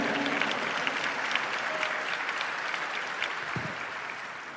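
Church congregation at a Brazilian worship event gives strong applause, a dense, steady crowd clapping that continues evenly through the short stretch without pause.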